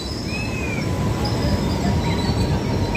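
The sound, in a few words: Ganadevta Express train passing at Rampurhat Junction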